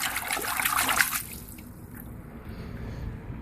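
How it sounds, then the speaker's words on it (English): Baking soda water splashes from a bucket onto a car battery in an engine bay, a brief wet pour and trickle in the first second that fades to faint dripping. "we're just going to pour it directly over the battery and kind of clean it up"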